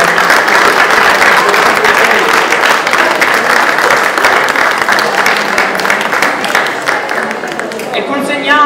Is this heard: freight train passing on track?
no